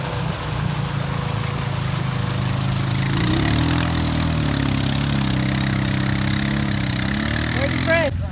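A Honda Rubicon ATV engine at an offroad park runs steadily near the listener, a low mid-pitched drone that swells slightly as the machine draws closer, with a brief higher sweep at the end.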